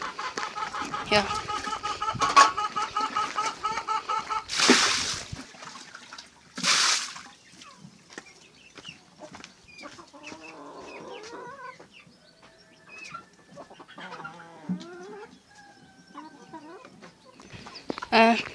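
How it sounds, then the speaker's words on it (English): Chickens cluck and call around a village yard, with water splashing while utensils are washed. Loud bursts come early, then softer scattered clucks, and a voice speaks briefly. "And those are our beautiful chicken."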